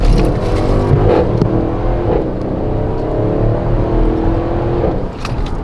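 Mercedes GL63 engine pulling through a quick baseline run, a steady loud drone with rising harmonic tones as the revs climb and shifts, continuous and close with no talk.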